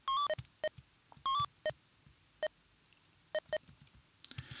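Primitive electronic beeps from the BBC Micro 8-bit game Nanogangs: a few rapid multi-tone bleep bursts followed by single spaced chirps, clean and alone over faint background hiss.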